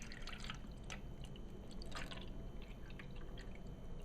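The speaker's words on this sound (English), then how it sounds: "we're going to add distilled water to that" Distilled water drips and trickles into the basin of a vinyl record washer, a quiet continuous pour with scattered droplet splashes against faint background hiss.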